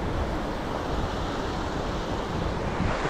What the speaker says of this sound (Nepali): खोला रहेछ है